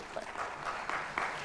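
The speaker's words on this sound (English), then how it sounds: "Big round of applause, gentlemen." Short stretch of audience applause at an IFA knowledge summit, a dense, steady patter of many hands clapping at moderate volume.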